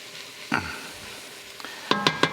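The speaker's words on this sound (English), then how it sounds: "So we'll go ahead and add the mushrooms. And we'll give these a stir." Mushrooms sizzle as they fry in a pan for beef stroganoff, with a quick scrape of stirring early on and a few sharper clinks of utensil against pan near the end, no voices.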